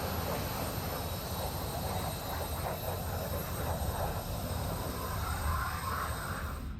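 A Su-25T ground-attack jet flies low in the DCS flight simulator, its engine giving a steady, close, unbroken roar with a high whine across the whole stretch.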